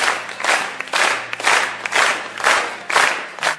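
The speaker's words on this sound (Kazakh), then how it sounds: "Мынау фонограмма шапалақ" Recorded applause played back through speakers at a wedding in a restaurant: repeated bursts of crowd clapping, each swelling and fading in a steady rhythm, loud and close with no speech over it.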